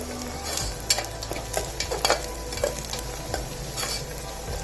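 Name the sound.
mutton kheema frying and stirring in oil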